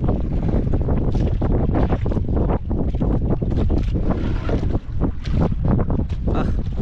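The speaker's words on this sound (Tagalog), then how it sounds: "Malaki naman yung sasakyan natin yung bangka." A large fishing boat runs on the open sea, with strong wind buffeting the microphone. Engine rumble and water rush blend into a loud, constant roar throughout.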